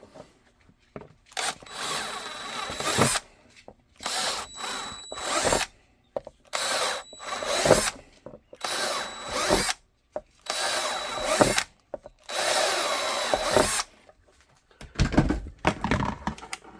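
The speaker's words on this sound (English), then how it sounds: "Next step is to obviously drill everything." A power drill bores into a handgun holster in repeated short bursts separated by brief pauses, loud and close, with occasional clunks between runs.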